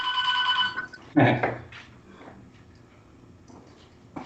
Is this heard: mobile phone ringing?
yes